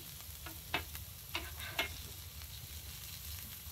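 Vegetables fry in bacon grease in a pan, giving a soft, steady crackling sizzle broken by a few sharp stirring clacks, close but quiet.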